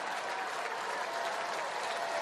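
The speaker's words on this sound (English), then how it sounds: "Crowd comes alive." Baseball stadium crowd in a Twins vs Cardinals game roaring and applauding steadily, a dense, sustained wash of cheering with no break.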